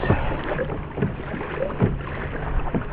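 Wind buffeting a small fishing boat out on rough water, a steady rushing roar over the microphone with a few heavier gusts, loud and close throughout with no talk.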